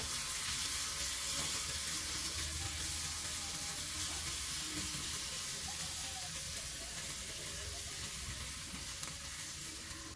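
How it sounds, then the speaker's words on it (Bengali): Spice masala with coriander, turmeric, chilli powder, garam masala and salt fries for palak paneer, giving a steady, even sizzle that runs unbroken through the whole stretch, close and moderately loud, with no voices. "লবণ দিয়ে মশলাটা আবারও ভালো করে কষে নেব কিছুক্ষণ সময় নিয়ে।"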